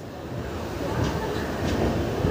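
The Howrah Puri Superfast Express, train 12837, rumbles along near Bhubaneswar with a steady, loud low roar and faint rail clatter that builds slightly toward the end.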